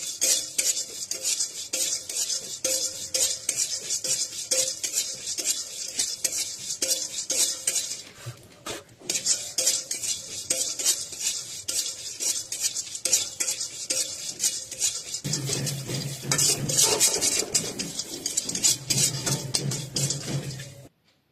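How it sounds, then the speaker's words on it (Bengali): Raisins, walnuts, cashews, almonds, pumpkin seeds, melon seeds and sesame are dry roasted in a preheated wok, with a steady, close rattle and scrape of a metal spatula, a brief pause, then a fuller clattering stir near the end. "এবার প্রিহিট করা কড়াইতে একে একে কিশমিশ, আখরোট, কাজু, আমন্ড, কুমড়ো বীজ, তরমুজ বীজ, তিল ভালো করে ড্রাই রোস্ট করে নেব।"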